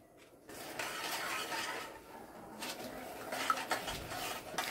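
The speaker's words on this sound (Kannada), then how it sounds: "ಸಕ್ಕರೆ ಕರಗುವವರೆಗೆ ಕೈ ಆಡಿಸ್ತಾ ಇರೋಣ" Sugar melting in a ghee-greased pan for sweet and sour apple halwa is stirred with a utensil, giving steady scraping and clinking of metal against the pan, alone and fairly close.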